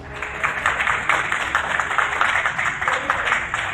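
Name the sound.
applause from airport staff in Adana, Turkey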